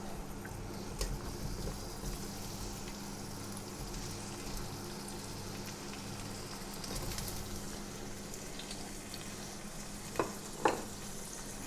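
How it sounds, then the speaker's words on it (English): Chorizo lightly frying in olive oil over modest heat, a soft low sizzle under a steady background hum, with a pair of brief clinks near the end. "We just want to lightly fry them."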